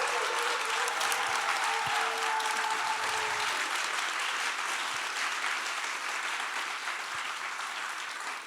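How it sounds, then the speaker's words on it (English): Sustained applause from a symposium audience, steady and full for the whole stretch, slowly tapering toward the end. "Please make a huge applause for them"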